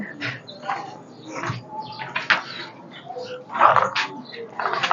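Pigeons cooing at feeding time, several birds giving soft throaty coos and calls that overlap irregularly at close range, with a louder burst of cooing partway through.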